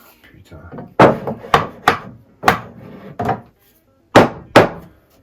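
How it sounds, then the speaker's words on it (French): A hammer striking wood on a mobile MFT workbench: about eight sharp, loud, close knocks in uneven rhythm, each with a short ringing decay, over faint room noise. "Quand tu veux faire de la finesse avec le marteau de Thor."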